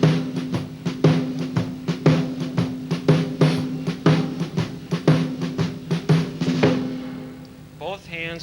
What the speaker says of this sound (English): That's what I call a Detroit shuffle.